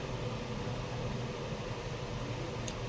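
A large electric fan runs behind a person, producing a loud, steady broadband whoosh with a low hum underneath that stays constant throughout, close by and uninterrupted.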